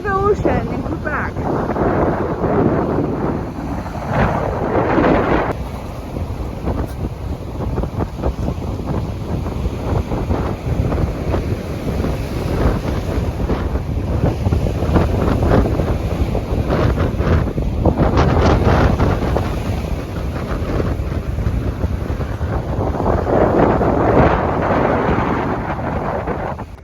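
Wind gusting during a blizzard on a woodland trail on Quebec's Gaspé Peninsula, a loud, rough, continuous rumble with pulsing gusts buffeting the microphone, and speech mixed in at times.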